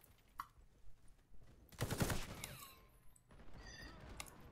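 Short, fairly quiet burst of Type 97 machine gun fire in the shooter game Warface, a rapid rattle lasting about half a second amid low background game noise and a few scattered clicks.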